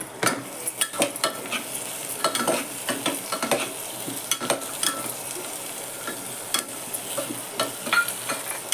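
Khichdi ingredients of rice and vegetables sizzle while being stirred and sautéed in a pan. Frequent close scraping strokes of a spoon sit over a constant frying hiss, with no voices heard.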